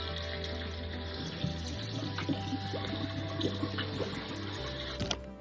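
Cold tap water runs steadily over cooked lasagna noodles in a kitchen sink, a constant close splashing rush lasting the whole stretch, with a few soft knocks near the end.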